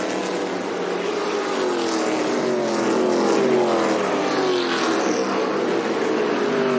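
ARCA stock cars race through the final lap at South Boston, a dense loud roar of engines with rising and falling whines as the cars pass, constant and close.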